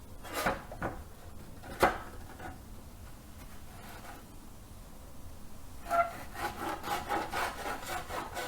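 A hand saw cuts wood held in a miter box. A few scraping strokes and knocks come first, then a stretch of steady rhythmic sawing, close up and fairly quiet, with no talk.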